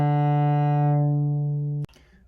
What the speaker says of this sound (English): you just drag it right across the string